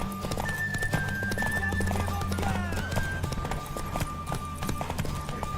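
Horse hooves clip-clop steadily in the video game The Witcher III, joined by a neigh or whinny, with game music and ambience underneath and a brief voice in the background.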